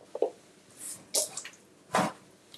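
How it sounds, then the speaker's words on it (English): Peeled boiled eggs rinsed under running water at a kitchen sink, heard as a few short splashes and wet spatters in separate bursts, with no talk. "Let me rinse them off."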